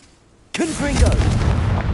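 A Confringo fire-spell blast in the video game Hogwarts Legacy erupts suddenly from near silence into a loud, sustained fiery roar with crackling tails, close and dominant, with a brief vocal cry over it.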